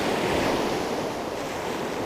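Waves break on a beach in the evening as a steady, loud wash of surf with wind buffeting the microphone, and no voices are heard.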